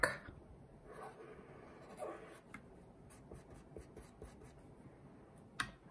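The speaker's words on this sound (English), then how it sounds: "And then over here, I'll draw Miss Park" Pen or marker strokes scratching across paper while drawing simple cartoon figures of teachers, soft irregular scribbles and taps close up, with no talking.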